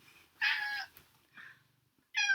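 Two meows: a long, loud one near the start, a quieter brief one after, then a third sharp meow at the end. Close and clear.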